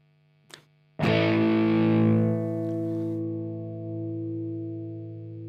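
A brief muted pick scratch, then a single chord on an Artist TL69 Thinline Telecaster electric guitar through an HBE Detox EQ pedal at half level is struck and left to ring, sustaining at a moderate, reduced volume as it slowly fades.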